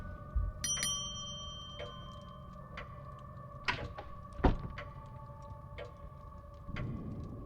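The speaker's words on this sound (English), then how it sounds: "Let's ring the bell." A bell at Blake Manor in The Séance of Blake Manor rings with a bright metallic strike that leaves a sustained tonal ring, followed by a few softer knocks and clicks in a quiet room.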